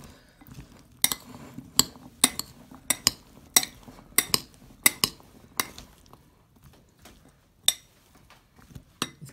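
Bean and vegetable salad being tossed in a bowl with a spoon, giving a run of sharp clinks and scrapes in an irregular rhythm, close and fairly loud, with no talking.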